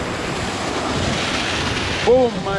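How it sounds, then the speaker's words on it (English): Floodwater rushes over a small village waterfall in a steady, loud roar of churning water, and near the end a person exclaims briefly over it. "Small waterfall, but it has destroyed things over time."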